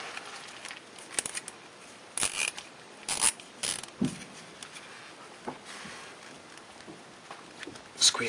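Tightening and squeezing a plumbing fitting on a home hard water conditioner gives scattered clicks, ratcheting snaps and metallic scrapes, close and irregular, with no talking.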